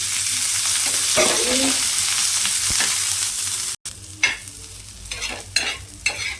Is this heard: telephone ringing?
no